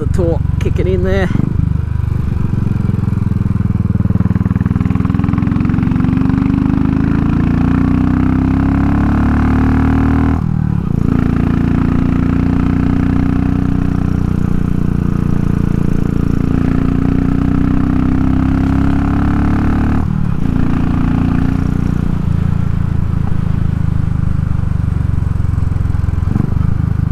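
Royal Enfield Classic 500 Race Dynamics, tuned with a Powertronic, pulls hard through the gears, its loud single-cylinder thump climbing in pitch, then dropping at two clear shifts, all under constant wind roar.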